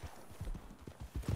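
Horse hooves clip-clop at a steady trotting pace in the video game Red Dead Redemption 2, a quiet, even rhythm of soft thuds over a low background hush.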